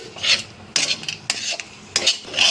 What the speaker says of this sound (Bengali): ডিমটা দিয়ে একটু ভালো করে নাড়াচাড়া করতে চেষ্টা করবেন।